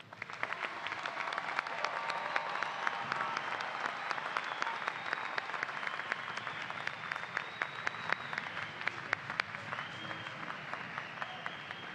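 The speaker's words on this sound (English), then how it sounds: "Please join me in recognizing these impressive individuals for their accomplishments by offering them a round of applause." An audience at a spring 2017 commencement ceremony for Washburn Tech graduates applauds in a dense, sustained wave of clapping that holds steady for the full length without talk.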